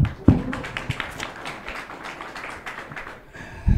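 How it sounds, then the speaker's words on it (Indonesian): A seated audience at a religious students' forum gives a steady round of applause, many hands clapping at moderate loudness for several seconds before it thins out near the end. "Tepuk tangan untuk teman-teman semua."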